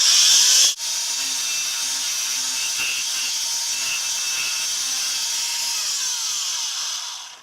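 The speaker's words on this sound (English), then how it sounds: "we're going to use a Dremel tool, also known as a rotary tool" A handheld Dremel rotary tool sands the rough edges of homemade wooden claves, giving a steady high-pitched whine that starts abruptly after a brief louder burst and holds level for several seconds before fading out, with no talking.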